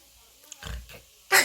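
A man imitates a pig, giving a short grunting oink with his voice, followed moments later by a louder, harsher snort-like burst; the imitation stands alone without other talk.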